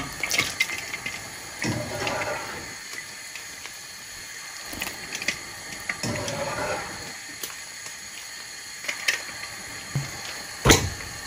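Homemade fish balls are dropped into cold water, with soft splashes, gentle sloshing and trickling at intervals and a faint hiss in between, close and quiet.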